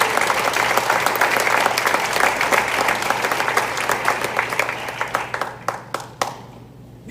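A church congregation claps loudly and densely, then the applause thins into scattered individual claps and fades toward the end.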